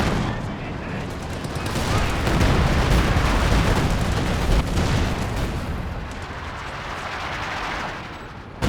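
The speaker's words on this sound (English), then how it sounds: "The FH is starting to fire up here" Field howitzer shells fire and burst in a Company of Heroes 2 battle, a dense, continuous rumble of booms and gunfire that swells and stays loud for most of the stretch.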